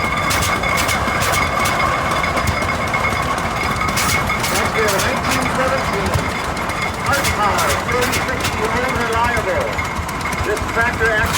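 A 1917 hit-and-miss tractor engine chugs and idles steadily, with irregular firing pops over a continuous mechanical drone and some voices in the background, at a tractor parade.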